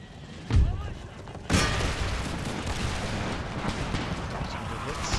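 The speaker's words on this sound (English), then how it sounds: "Start shooting." Musket volleys in Empire Total War, an Empire II mod 13 Colonies campaign battle: two sharp booming bursts early on, then a dense continuous roar of massed gunfire and battle noise.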